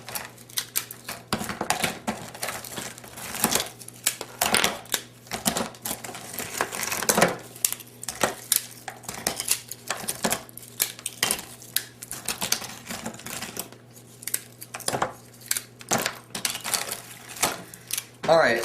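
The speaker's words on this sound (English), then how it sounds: "This isn't an art, so you don't have to be artistic with your shattering. Just make sure you get them all evenly broken up." Hardened homemade peanut brittle is broken into pieces on a kitchen counter: a steady run of sharp cracks, snaps and clattering shards, close and busy, with brief talking mixed in.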